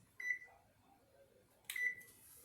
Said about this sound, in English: And I set the timer for 5 minutes.